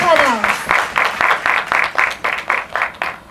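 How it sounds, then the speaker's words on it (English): A small group claps for the panelists at a student stress-management discussion, a short burst of separate, distinct claps that fades after about three seconds. "Please give a big applause to all the panels"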